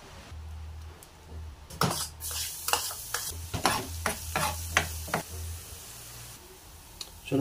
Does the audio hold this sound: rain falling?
no